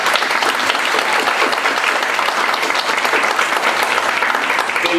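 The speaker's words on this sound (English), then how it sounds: "let's give the Cleveland Public Library a big round of applause" Audience applause for the Cleveland Public Library at an art event, a steady, full wash of many hands clapping that holds evenly from start to finish.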